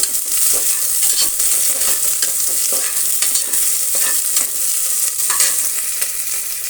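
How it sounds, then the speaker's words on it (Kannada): Thickly cut onions frying in oil in a pan for biryani, a loud constant hissing sizzle close by, with faint stirring clatter throughout and no speech. "ಎರಡು ಈರುಳ್ಳಿ ಕಟ್ ಮಾಡಿರೋದನ್ನು ಹಾಕ್ತಾ ಇದ್ದೀನಿ ಸ್ವಲ್ಪ ದಪ್ಪದಾಗಿರುವಂತಹ ಎರಡು ಈರುಳ್ಳಿ ಸ್ವಲ್ಪ ಫ್ರೈ ಆಗಲಿ"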